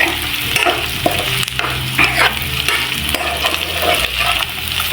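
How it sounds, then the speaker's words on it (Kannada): Paneer and onions stir-fry in a pan, with a steady close sizzle and repeated scraping and stirring strokes of a spatula running throughout, without any talking. "ಈ ರೀತಿ 1-2 ಮಿನಿಟ್ಸ್ ಕ್ಲೀನಾಗಿ ಫ್ರೈ ಮಾಡ್ಕೊಳ್ಳೋಣ"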